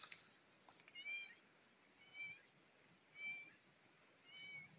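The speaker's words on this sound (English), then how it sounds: "Cats meowing. I got cats following me out in the woods." Cats meowing outdoors in autumn woods, four faint, evenly spaced mews about a second apart, distant and thin over quiet background hiss.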